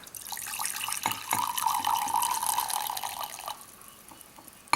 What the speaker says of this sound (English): Then I'll pour off the hot water.